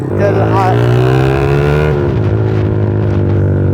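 A loud motorcycle engine revs high and holds, then drops as the throttle eases, close and continuous throughout.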